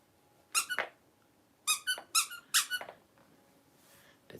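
A pug's squeaky toy squeaks in quick rubbery bursts, one pair and then a run of three or four more, fairly close and alone in a quiet room.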